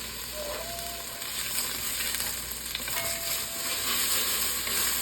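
Onions and celery sauté in olive oil in a Dutch oven over medium-high heat, giving a steady, close sizzle with faint stirring scrapes that runs without pause for several seconds, no talking.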